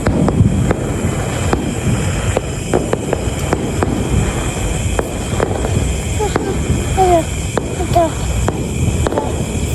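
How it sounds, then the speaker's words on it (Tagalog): Fireworks going off outdoors in a series of sharp booms and cracks at irregular intervals, loud against a steady background rumble, with people exclaiming and talking between bursts. "Fireworks. Yun ang fireworks"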